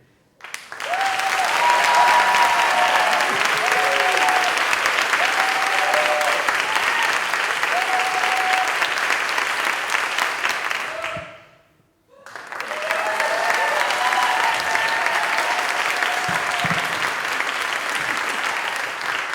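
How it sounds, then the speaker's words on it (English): A roomful of people applauds one team in a workshop contest, a thick continuous clapping that suddenly cuts to silence midway, then a second equally loud burst of applause for the next team, with scattered voices underneath. "You guys clap, and then we stop."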